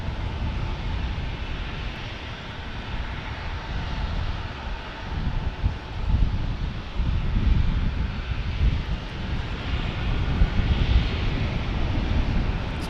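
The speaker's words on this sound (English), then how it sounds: "Speaking of American Airlines, as we see taking off here" An American Airlines jet taking off in San Diego, a steady, loud engine roar that swells toward the middle and holds, with wind noise on the microphone.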